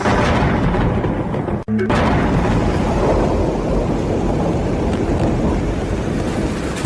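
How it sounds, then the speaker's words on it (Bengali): Heavy rain roars steadily and loudly throughout, with deep rumbling thunder blended into the downpour and a brief dropout partway through. "বাইরে বৃষ্টি আবার জোরে পড়তে শুরু করেছে।"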